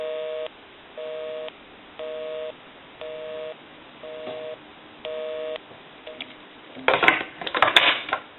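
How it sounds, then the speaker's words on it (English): Busy signal on a repaired and converted TA 954 military field telephone: about six regular on-off tone pulses repeat once per second, then handset clatter and handling noise take over near the end. "We can call my number, and it'll be busy."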